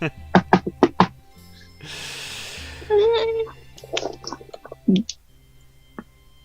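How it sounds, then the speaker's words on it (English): Four quick, sharp knocks on a door open a Dungeons and Dragons live-play scene, followed by a hiss and other softer effect sounds. "I knock on the door."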